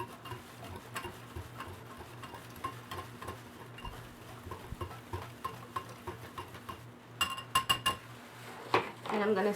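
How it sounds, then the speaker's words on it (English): Rhassoul, kaolin and bentonite clay powders are stirred together in a bowl for a bath bomb mix, with soft, close scraping and light clinking taps of a utensil against the bowl, ending in a few brighter clinks. "I'm going to mix these together so they have a uniformity before I add them into my bath bomb mixture"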